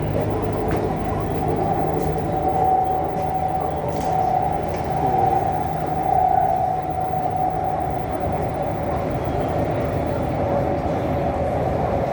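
An electric skytrain rolls along with a steady rumble and a faint high whine that rises and falls, with some muffled voices faintly underneath.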